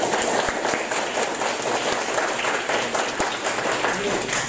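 Steady applause from a crowd at a motivational business event, dense clapping holding at an even level throughout with occasional sharper claps standing out.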